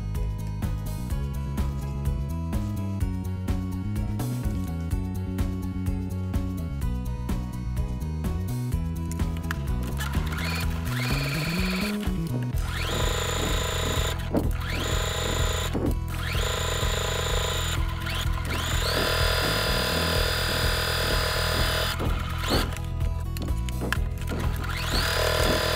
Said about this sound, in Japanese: で重ねてここの両サイドをミシンで縫っていきます。